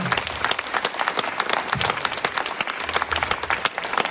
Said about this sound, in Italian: fatemi un applauso da soli.